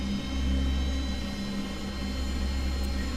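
A King Air C90 twin turboprop holding steady power on the runway before takeoff, giving a constant droning hum with strong low tonal bands and a broad whine, loud and unbroken for about three seconds.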